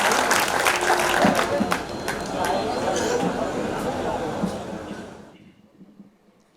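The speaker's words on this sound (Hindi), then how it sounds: "एक मरतबा तालियाँ बजाकर मेरे साथ" Audience at a mushaira poetry gathering during an Urs celebration applauding a poet, a dense steady wash of clapping with crowd chatter that fades out toward the end.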